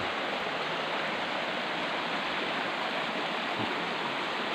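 Continuous rushing water from a river, a steady broadband hiss at moderate level with no breaks or voices, like flowing current over rocks.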